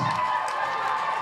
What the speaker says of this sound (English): The crowd loses their mind as he bounces it off the upright and through.